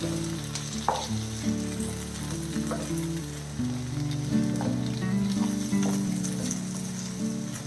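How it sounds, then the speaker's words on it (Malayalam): Egg frying in a pan and being stirred, with a steady close sizzle and periodic scraping strokes, under soft background music and with no speech. "ഈ മുട്ട കുറച്ച് വെന്ത് കിട്ടുന്നവരെ നമുക്ക് ഇങ്ങനെ ഒന്ന് ഇളക്കി കൊടുക്കാം."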